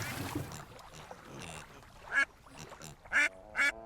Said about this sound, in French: La voiture glisse et plonge cette fois-ci dans une mare au canard.